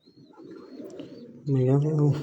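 A pigeon coos close by with a low, throaty call that swells loudly near the end, after a quieter stretch of murmuring coos and someone talking.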